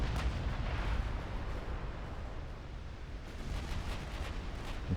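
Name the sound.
naval gunfire from battleship secondary guns in a video game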